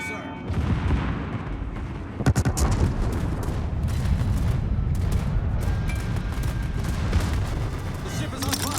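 Warship secondary guns firing broadside in a naval video game, a sustained barrage of booming and cracking shots with sharp louder blasts standing out, loud and continuous throughout under occasional voices.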